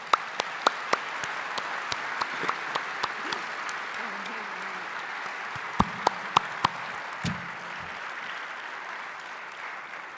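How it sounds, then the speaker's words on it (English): Applause from a crowd at a memorial event for an air disaster, steady and fairly faint with a few sharper claps standing out, lasting the whole stretch. "Can we have another round of applause for them?"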